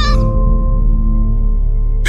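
An animated kitten gives a short, close meow at the start, followed by a sustained droning tone, with a brief new sound cutting in at the very end.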